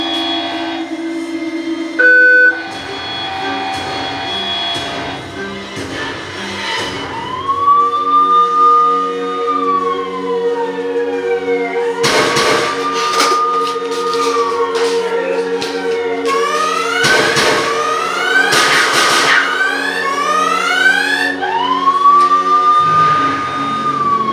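A loud emergency siren wails in rising and falling sweeps during an active shooter drill at a firing range, joined by faster warbling tones, sustained and close, with no talking.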